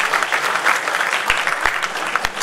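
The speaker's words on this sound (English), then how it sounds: "Once again, one round of applause for them." Warm round of applause from a college cultural night audience at Chennai Mathematical Institute after a singing performance, dense continuous clapping with a few louder nearby claps, no voices over it.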